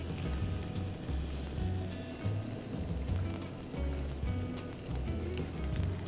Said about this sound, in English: I'll go back to the fire, and we're just gonna do a quick sear on all sides.